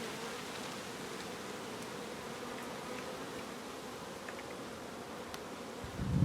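Honeybees swarming over a drone frame inside a hive during a spring inspection: a dense, steady, close buzzing hum without letup, joined by a brief low bump near the end.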